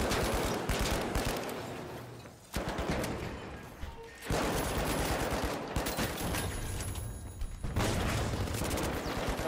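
Rapid gunfire from the online shooter game The Finals, dense volleys of shots rattling almost continuously with two short pauses, loud and close, with no voices.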